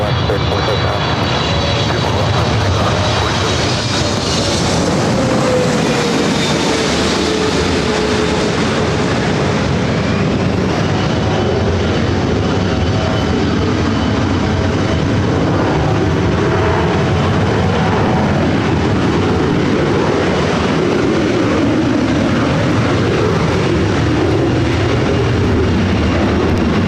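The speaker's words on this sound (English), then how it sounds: "runway 24 left, cleared for takeoff" An airplane takes off from runway 24 left at Los Angeles International Airport, its loud engine roar swelling steadily and sustained throughout, with broadband rumble dominating and no talk over it.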